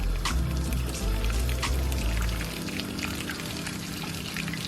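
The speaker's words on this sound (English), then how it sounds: "Let's start with some hot water." Steady rushing pour of hot water into a pasta pot, a dense splashing wash that turns to a lighter trickle halfway through, close by with no talk.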